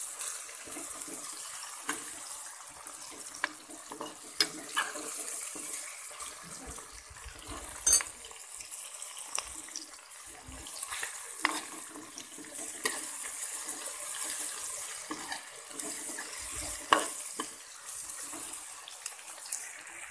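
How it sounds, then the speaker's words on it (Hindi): Masala with green chillies fries in a pan for fish curry, a steady hissing sizzle dotted with sharp crackles and pops that runs for about twenty seconds without any talking. "4 से 5 मिनट के लिए अच्छे से भून लेंगे।"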